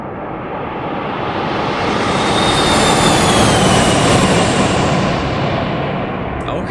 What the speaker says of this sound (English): And now for our flyby.